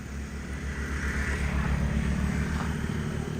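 A drone flies on the Matande-Balusu route, giving a steady, fairly loud droning buzz of spinning propellers that holds constant throughout with no voices.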